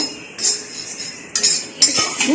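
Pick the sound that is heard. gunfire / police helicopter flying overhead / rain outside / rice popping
rice popping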